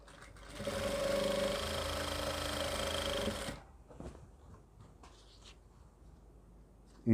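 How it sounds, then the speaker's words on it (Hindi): A sewing machine runs steadily for about three seconds, stitching a palazzo skirt, then stops, leaving quiet handling and faint rustles of fabric. "इसको इस तरीके से लेंगे और ऐसे करके सिलाई लगाएंगे"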